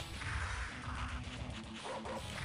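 Dogs barking in a retro-style indie video game, a few quick, close barks and yips over a busy game soundtrack, with no talk.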